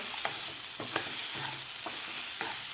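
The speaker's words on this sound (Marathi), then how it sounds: "मिक्सरमधून काढून घेतलेले मटर घालायचे आहेत आता हे सुद्धा आपल्याला व्यवस्थित परतून घ्यायचे आहेत" Ground green peas, blended in a mixer, being sautéed in a pan over a medium flame, with a steady sizzle and a spatula scraping and stirring in repeated strokes, close and alone.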